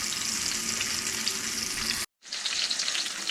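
Fish from a spearfishing catch sizzles and crackles steadily in hot bacon grease, a loud, close frying hiss that cuts out briefly in the middle and resumes.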